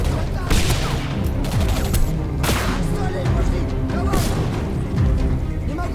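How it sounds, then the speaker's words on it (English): Spike shot weapon fired in the video game Singularity: several sharp, loud bursts come at irregular intervals over dense, continuous game noise, with crackling impacts between them. "Let's try this spike shot thing."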